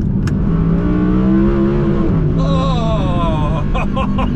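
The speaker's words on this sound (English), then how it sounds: "just that noise as well, that soundtrack that goes along with it" Audi R8 V10 engine revving loudly and near, a deep growl that climbs in pitch, then shifts to a higher rising wail, heard from inside the car.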